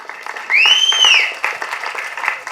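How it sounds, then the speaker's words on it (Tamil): An audience at an album launch applauds the director: continuous clapping through the hall, joined by a loud whistle near the start that rises and then falls away, with the applause thinning out toward the end. "ஸோ இயக்குனருக்கும் உங்களுடைய மிகப்பெரிய ஒரு கைத்தட்டலை கொடுத்துருங்க."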